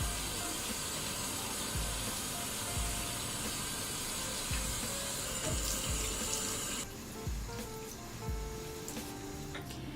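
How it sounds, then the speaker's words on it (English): Tap water runs steadily into a sink for face washing in a home bathroom, a continuous close hiss and splash with no talk, the flow shifting slightly partway through. "First things first, I have to wash my face."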